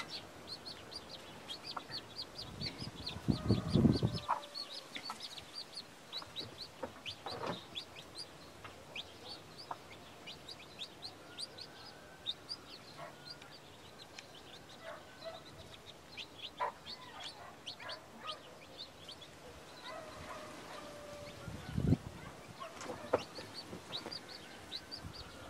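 Chickens and other poultry on a small home farm cluck and chirp steadily at a moderate distance, with a couple of louder close bursts and scattered bird calls throughout.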